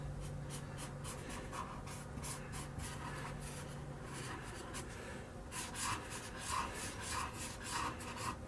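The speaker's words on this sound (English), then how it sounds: "take a Sharpie and I put in my signature" A Sharpie marker scratches and rubs across a wooden surface while a signature is written, with a steady close rasping broken by short strokes near the end.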